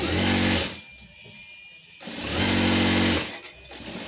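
A sewing machine stitches a T-shirt collar up close in two loud, steady whirring runs, separated by a quiet pause with faint handling noises.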